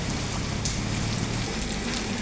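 Heavy rain pours steadily during a violent storm, a dense constant hiss of drops drumming on surfaces close by, unbroken throughout with no voices.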